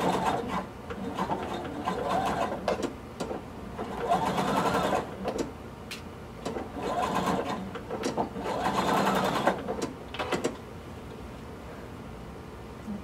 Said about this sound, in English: we're going to sew across both of these, turning over the underside half an inch to match the left side.